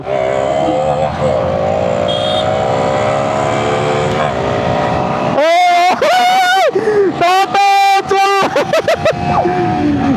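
Two motorcycles, a Yamaha R15 v3 and a Suzuki Gixxer 155, race on a highway; a steady engine drone gives way to loud, close revving with rising and falling pitch and quick gear changes, and a voice may sit under the roar.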